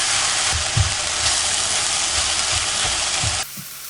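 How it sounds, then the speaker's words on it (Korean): Doenjang and cheonggukjang soybean paste stir-fry in a pan for gang-doenjang, giving a steady loud sizzle with rhythmic scraping from stirring that drops away near the end. "된장, 청국장, 청국장을 넣어서 다시 잘 볶아줍니다"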